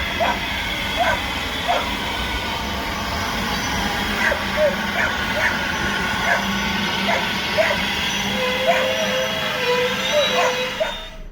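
A dog barks repeatedly at a heritage steam railway station during a gala, with evenly spaced barks carrying over a steady hum of engine and crowd noise.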